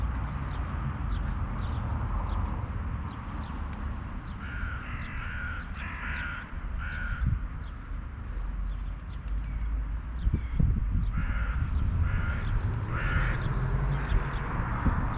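Crows caw outdoors in several short bursts of harsh calls, moderately distant, set against steady background rumble and noise.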